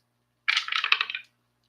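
Dice rattle and tumble across a surface for a tabletop baseball board game, a single short roll of clattering bounces lasting under a second, close and alone in otherwise quiet surroundings.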